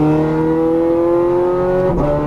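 A Ferrari F430 Scuderia engine pulls hard on a race track, a loud close steady engine tone rising in pitch, with a brief dip near the end as a gear changes.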